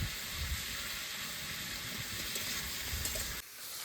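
Ridge gourd fries in a pan with a pinch of salt, producing a soft, steady hiss of sizzling that runs on evenly and drops away abruptly just before the end.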